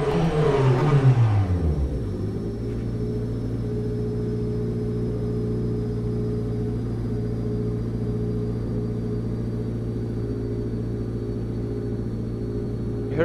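The turbo of a McLaren 720S GT3 in the rFactor 2 racing game at Sebring spools down as the car stops, a falling whine over the first two seconds that settles into a steady idling engine hum.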